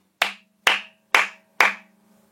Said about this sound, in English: just me clapping